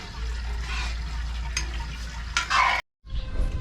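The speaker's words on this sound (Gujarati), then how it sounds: "હવે આપણે આને કન્ટિન્યુ હલાવતા જાય અને સરસ રીતે ઉકાળી લઈશું।" Grated green corn boiling in about a litre of milk is stirred continuously in a pot, with a steady bubbling, sloshing churn and occasional louder scrapes before a brief silence and a return of the simmer.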